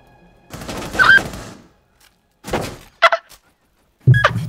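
Gunfire in the Rainbow Six Siege video game: short bursts of shots and thuds separated by silences, with one longer burst near the start and sharp reports toward the end.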